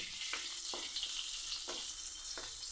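Long-slit green chillies frying in oil for a Kerala egg roast, a bright continuous sizzle with a few quick spoon strokes stirring through the pan, close and without voices.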